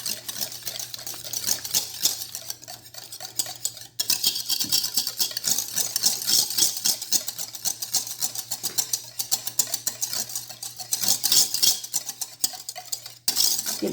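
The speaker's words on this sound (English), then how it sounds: "I'm just going to whisk this up together" Buttermilk, eggs and vanilla extract for chocolate cake batter are whisked in a bowl, giving a fast, continuous metallic clinking and rattling of the whisk against the sides, close and steady with a few short breaks.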